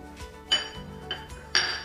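A utensil stirs cabbage and stewed tomato soup in a pot, giving a few distinct metallic clinks and scrapes against the pot's sides spaced across a short moment, with no voices.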